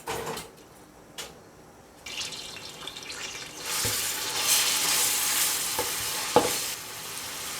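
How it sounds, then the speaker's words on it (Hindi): Ginger-garlic paste frying in hot oil in a pan for a home-style chicken curry, a steady broadband sizzle building up and holding, with a few stirring scrapes and clinks, close and moderately loud, no talking. "तो 2 से 3 मिनट इसको फ्राई करना है।"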